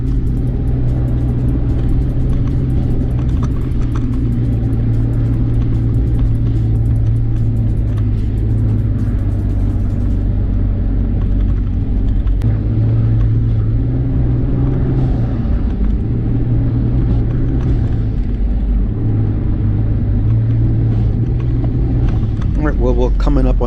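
A Ford Explorer Sport on Pirelli tires drives along a beach, its engine a steady close rumble with slight shifts in revs throughout, while someone talks over the noise.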